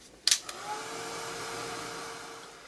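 A heat tool blowing to dry paint on a card: a sharp click starts it, then a steady airy whir and hum that holds close and even for the rest of the clip.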